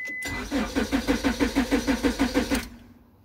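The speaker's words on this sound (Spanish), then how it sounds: "Si nosotros damos marcha al vehículo, el vehículo no va a encender." A Honda car engine cranks over and over in a fast, even rhythm for about two seconds without catching, then the starter stops and the sound fades.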